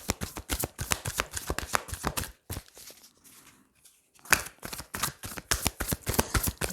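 Tarot cards being shuffled and laid out on a table, a quick series of crisp card slaps and flicks, close and fairly loud, with a short quieter pause midway.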